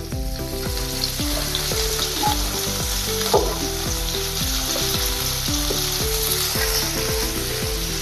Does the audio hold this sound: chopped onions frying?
yes